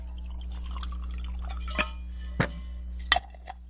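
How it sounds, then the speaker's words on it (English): Water added to a jar of large Himalayan salt rocks, heard as a few distinct drips and splashes close by over a steady low hum, with no talk. "You take large Himalayan salt rocks, you stick them in a jar, you add water."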